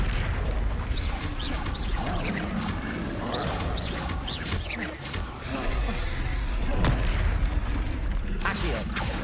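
Confringo fire spell explosions in the Hogwarts Legacy video game, a dense run of booming blasts and crackling bursts that fill the scene continuously with loud, overlapping impacts and a few sharper peaks.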